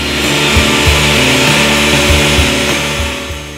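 A power saw cuts through wood for a skittles board, a loud, continuous motor drone with uneven bumps in load as the blade bites, heard close with no talk.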